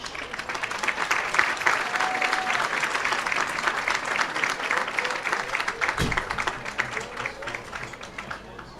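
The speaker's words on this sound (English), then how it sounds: "Please join me with a round of applause to show them how much we appreciate their efforts" Loud, sustained applause from a football stadium crowd at halftime of a Kennett Indians vs Dexter Bearcats game, a dense wash of clapping that runs steadily throughout with a brief thump near the end.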